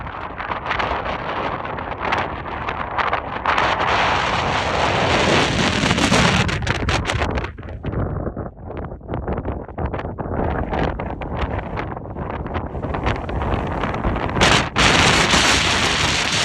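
Strong wind buffets the microphone in loud, roaring gusts that surge and ease, rumbling continuously with no voices heard.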